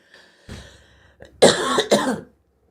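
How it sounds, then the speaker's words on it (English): A couple of quiet throat noises lead into two loud, harsh coughs close to the listener, then silence. "talking so much I had to cough"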